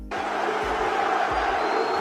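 Large wrestling arena crowd roaring loudly and continuously, a dense, steady wall of shouting and jeering that begins suddenly and holds throughout.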